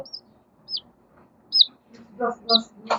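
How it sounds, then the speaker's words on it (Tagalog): A pet chick gives several short, high, thin peeps spaced out over a few seconds, close to the mic, while a voice murmurs softly underneath toward the end. "So guys, ito yung sisiw ko."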